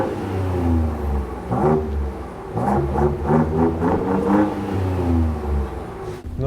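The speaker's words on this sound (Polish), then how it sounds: "To zobaczmy, jak brzmi to najbardziej brutalne, bo ja lubię te V6 fordowskie" A Ford Ranger Raptor 3.0 V6 with active exhaust revs hard in several quick bursts over a low idle rumble, rasping and rising, then settles back to idle before a final blip.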